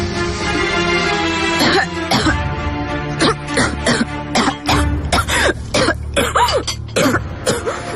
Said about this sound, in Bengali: কি হলো তোমার? হঠাৎ এত কাশি